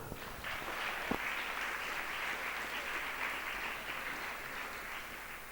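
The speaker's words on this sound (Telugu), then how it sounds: "గట్టిగా చప్పట్లు కొట్టుకోండి." A church congregation claps loudly, a dense continuous wash of applause from many hands that holds steady throughout.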